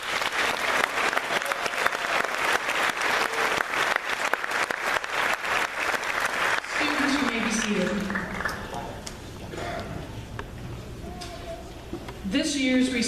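Audience applause for graduating students at a 2016 community college graduation ceremony, a dense sustained clapping that fades into scattered claps while a voice speaks over the tail.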